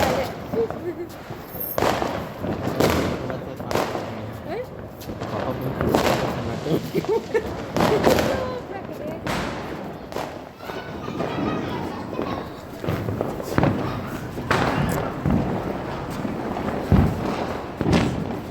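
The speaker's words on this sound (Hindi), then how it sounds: "मैं डायरेक्ट लॉन्चर वाले बम फोड़ता हूँ" Diwali launcher firecrackers burst again and again outdoors, a string of loud cracks and bangs, with voices talking and calling out over and between them.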